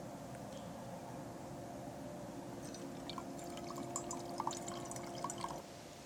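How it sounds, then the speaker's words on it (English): Coffee poured into a cup outdoors during a Michigan deer-hunting gun opener, a soft trickling and dripping stream with faint liquid splashes over a steady low background hum. "So I think I'm going to pour myself some coffee."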